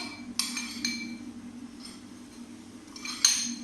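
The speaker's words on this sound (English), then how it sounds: "And mix everything together" A metal spoon clinks against a bowl or pot while oat porridge ingredients are mixed together, a few sharp scattered taps over a low background hum, quiet and close.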